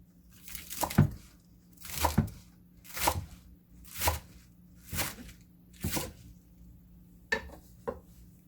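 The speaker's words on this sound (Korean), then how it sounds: "쪽파를 썰어줍니다." A knife chops green onions (jjokpa) on a cutting board in steady, evenly spaced strokes, about seven crisp cuts up close with a couple of lighter ones at the end.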